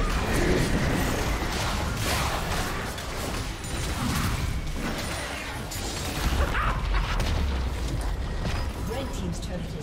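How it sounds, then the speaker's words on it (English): A League of Legends turret collapses amid a busy team fight, a dense roar of crashing debris and ability effects running continuously and loud throughout, with an announcer voice layered over it. "Red team's turret has been destroyed."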